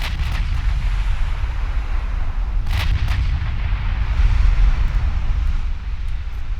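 Heavy naval gunfire from battleships in the naval warfare game Ultimate Admiral Dreadnoughts, with 16-inch shells in play: a constant deep, rumbling roar broken by a couple of sharp, loud blasts, no voices.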